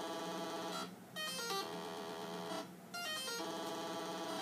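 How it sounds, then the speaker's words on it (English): Game Boy audio pitched down many octaves and heavily distorted, giving a buzzing, mechanical printer-like drone that drops out briefly twice in a steady repeating cycle, with no talking. "if I downpitch a Game Boy massively, huge octaves, and add distortion, it actually makes it sound like a printer"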